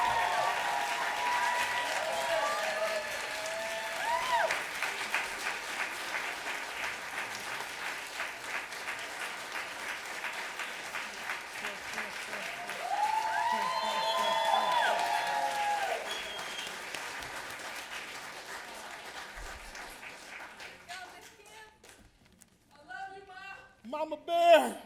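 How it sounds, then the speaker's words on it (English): Applause from the audience at a recovery summit awards ceremony, a broad sustained clapping bed with a voice speaking over it, swelling midway and then fading into scattered sounds and talk near the end. "big round of applause for Miss Kimberly Tillman."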